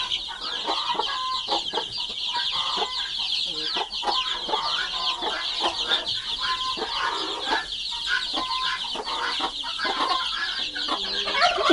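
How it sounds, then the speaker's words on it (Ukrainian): Broody hens and a brood of chicks in a shared enclosure, with repeated close clucking and high peeping calls overlapping in an irregular busy chatter, continuous throughout. "Такі курчатка тут."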